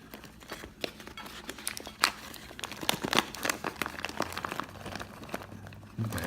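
Scissors snip and crinkle through the plastic packaging of a Luvo turkey meatloaf and mashed potatoes frozen meal, a close series of sharp crackles, tears and clicks over quiet room tone.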